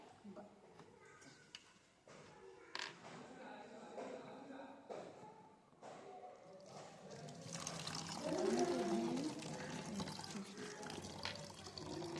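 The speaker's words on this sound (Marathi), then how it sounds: "आता मी बॉटल मध्ये पाणी भरत आहे." Water is poured into a bottle, a trickling, rising fill sound that grows louder toward the end, with a person talking at times over it.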